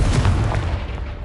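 Confringo fire spell detonating against a blocking pile in Hogwarts Legacy, a single loud, close boom that hits at once and rumbles away within about a second.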